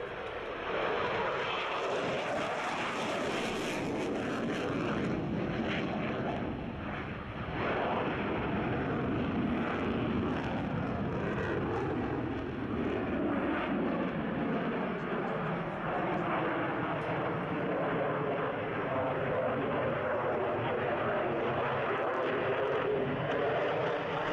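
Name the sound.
Lockheed Martin F-16AM Fighting Falcon fighter jet flying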